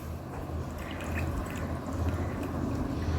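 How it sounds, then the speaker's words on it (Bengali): Cooled vegetables, including pointed gourd, are squeezed and washed by hand in a bowl of water, giving soft, close sloshing and dripping that runs on without a break. "একটি পাত্রের মধ্যে জল নিয়েছি আর সমস্ত সবজিগুলো দিয়ে ভালো করে চটকে ধুয়ে নিচ্ছি"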